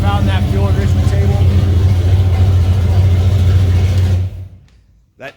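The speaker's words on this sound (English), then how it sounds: "I can sit inside the shop now with it idling a little bit longer than I normally could" A tuned Ford Mustang engine idles inside a shop with a steady, loud, deep burbling rumble for several seconds, then shuts off abruptly, leaving near silence with a brief faint sound at the end.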